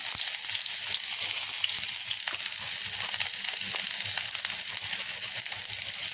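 Chopped onion frying in mustard oil in a wok with a little meat, a steady dense sizzle with small crackles throughout, close and continuous.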